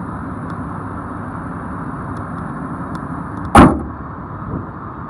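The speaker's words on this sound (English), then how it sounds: "The motor is a V10. It sounds great. Listen." A 2007 Ford F-350 Super Duty 4x4 with a V10 engine idles with a steady low rumble, broken once midway by a single sharp knock.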